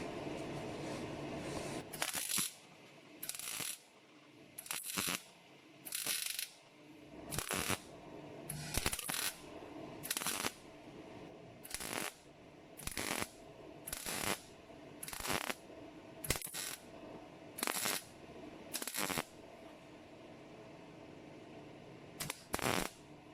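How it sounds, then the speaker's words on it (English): Seam welding along the back edge of a rust repair panel on an IS200 car body, heard as a long run of short crackling weld bursts, each about a second long, separated by brief pauses, close and steady. "I need to give this a bit of a seam weld along the back edge of it there."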